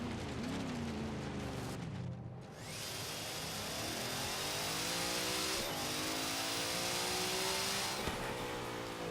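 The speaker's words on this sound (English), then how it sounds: "That is probably the most craziest spool sound I've ever heard in this game." A '55 Chevrolet Bel Air in Forza Horizon 3 driving under heavy throttle, its loud turbo spool rising as a steady whine over the engine with shifts and revs throughout, close and continuous.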